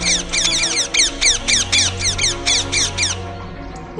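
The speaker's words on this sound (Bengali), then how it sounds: "আশপাশ দিয়ে এক ঝাঁক টিয়া পাখিও ভয়ে উড়ে যায়।" A flock of parrots squawking as a story sound effect, a rapid run of loud, harsh, repeated calls that bunch together and then stop suddenly.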